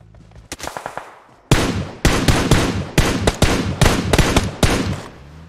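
Gunfire in PUBG Mobile, a few light shots followed by loud, close bursts of rapid automatic fire in several volleys with short pauses between them.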